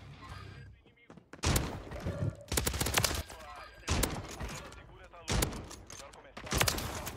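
Rapid bursts of automatic gunfire from a Call of Duty Warzone match crackle in repeated volleys, loud and sharp, with someone talking excitedly between and over the shots.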